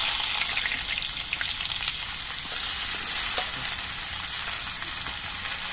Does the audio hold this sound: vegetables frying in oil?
yes